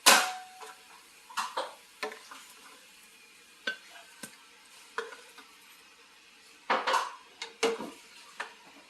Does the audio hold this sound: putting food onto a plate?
yes